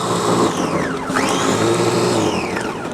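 An electric food chopper mincing ginger and garlic whirs continuously and loudly up close, its motor pitch sweeping down and back up midway as the blades work through the pieces.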